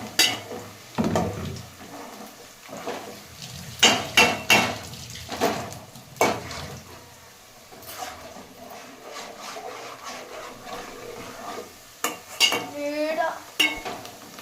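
Biryani being mixed in a pot: irregular scraping and clanking of a utensil against metal with soft stirring rustles between strokes, moderately close, with occasional quiet sounds in the background.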